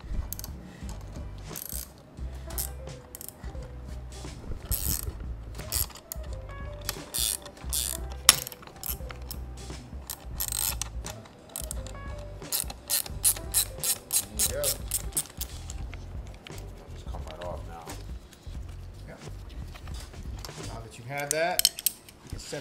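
Metal clicks and ratcheting clatter come from a small puller removing a split-rim tire on an electric scooter, with irregular bursts of mechanical clinks and scraping over about twenty seconds, fairly close.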